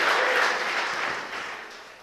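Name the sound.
audience applause in church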